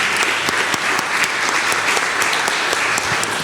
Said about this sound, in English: let's applaud for them too